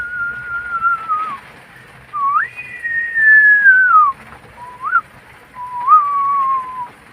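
A thin, high whistling rises and falls in long drawn-out tones with short gaps, like wind whistling through a narrow gap, over a low steady rumble, during Typhoon Kristine in the Philippines, October 2024.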